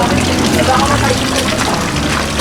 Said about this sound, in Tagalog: May falls pala dito, may falls.